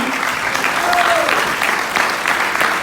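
Loud, steady crowd applause for Mosque number 97 at a large gathering, dense clapping throughout with crowd noise mixed in.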